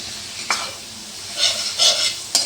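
A pan of rohu curry is stirred after meat masala and fish oil go in, with a few sharp spoon scrapes and soft sizzling bursts at close range, and no voices.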